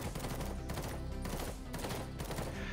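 Rapid, dense hip-fire gunfire from the VR shooter game VR Ops, loud and continuous for the whole stretch, with overlapping shots and no pauses.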